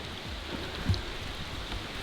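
Rain falls steadily at an RV campsite, a soft, even hiss with faint scattered drops, heard alone at moderate distance.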